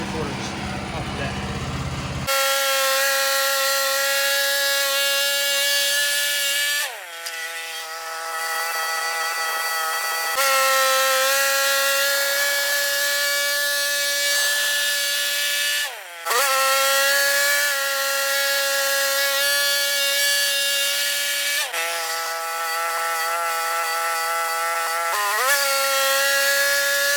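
A sawmill cuts a log into 1.75-inch trailer decking boards, its engine-driven blade a loud, sustained whine with strong harmonic tones, briefly dipping between passes before resuming at steady pitch.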